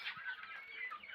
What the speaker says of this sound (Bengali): 3টা মুরগি, একটা মোরগ, গোলাছিলা মোরগ আর গোলাছিলা মুরগি।